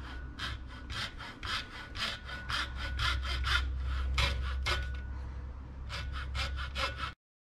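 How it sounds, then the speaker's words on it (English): Small notches cut by hand into a car suspension part held in a little vise, a close run of quick, rhythmic rasping saw or file strokes, about twenty in bursts, then stopping abruptly. "We're just gonna make some notches. Nothing deep, just something to just let the grease through."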